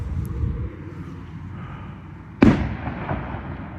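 A single sharp firework burst cracks out at night near a graveyard, echoing briefly over a low rumbling background of more distant pops.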